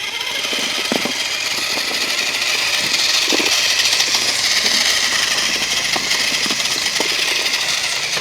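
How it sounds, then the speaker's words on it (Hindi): An Eicher 485 tractor engine runs steadily at idle throughout, a continuous loud mechanical drone with a few sharper knocks and clatters rising over it, no talk present. "तो ये देखो फाइनली अपना ऑन हो चुका है ट्रैक्टर"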